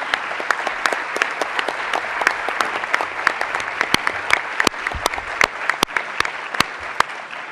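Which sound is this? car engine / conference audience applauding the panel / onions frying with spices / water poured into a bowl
conference audience applauding the panel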